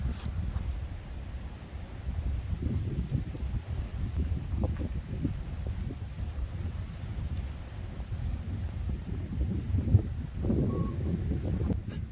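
Steady wind buffets an open beach campsite, a low rumbling roar of gusts that rises and falls throughout without letting up.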